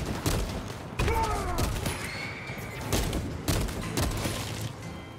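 Bolt caster gunfire in the video game Warhammer 40,000 Space Marine 2, a loud run of booming energy shots and crackling bursts over battle noise, with a high whining tone rising between blasts.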